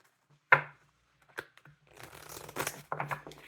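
Tarot cards being shuffled by hand: one sharp snap, then a few soft taps, then quiet rustling, riffling bursts near the end, all close and fairly faint.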